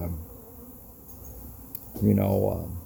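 A buzzing of honeybees at a hive, a soft hum that swells into a louder, close drone near the end, with faint background noise.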